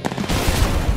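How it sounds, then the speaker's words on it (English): Rapid gunfire from an Apex Legends video game trailer, a dense burst of loud repeated shots with heavy low booms, close and continuous for about a second. "Opening fire."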